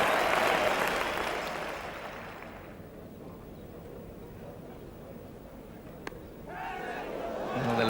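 A cricket crowd applauds Alan Lamb's century, his first hundred against Australia, with loud sustained clapping and cheering that fades over a few seconds, then swells again near the end.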